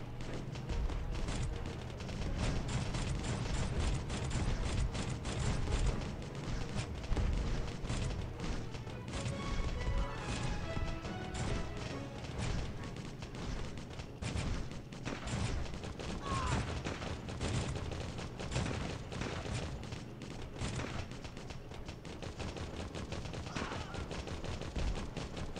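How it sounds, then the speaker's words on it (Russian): Turret cannons firing in the Steampunk Tower 2 video game, a dense, continuous rattle of rapid gunfire bursts and impacts, with someone talking over the action. "Почему эта пушка только наверх стреляет?"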